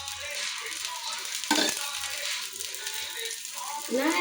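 Oil sizzles steadily around a rava roti frying on a pan, a close, constant hiss with a brief louder clatter midway and a faint voice near the end.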